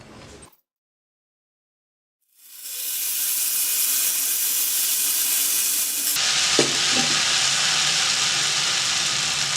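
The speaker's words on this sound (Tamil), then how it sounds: "இப்போ நம்ம தோசை ஊற்றலாம்." Ragi and aval (flattened rice) dosa batter hits a hot pan after a moment of silence and sizzles with a loud, steady hiss that grows stronger partway through.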